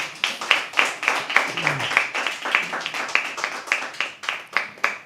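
A small open mic poetry audience at The Habitat claps for a performer, the separate claps sounding sparse and distinct in a loose, uneven rhythm, close by, with a brief voice partway through.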